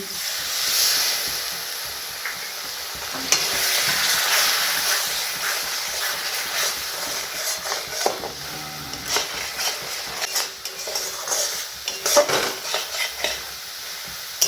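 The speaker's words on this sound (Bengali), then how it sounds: "আবার ভালো করে মিশিয়ে নেব" Chicken do-peyaja masala is stirred in a pan, with a spoon scraping and turning the spiced onion mixture over a steady sizzling hiss, the scrapes irregular and close, with no talking.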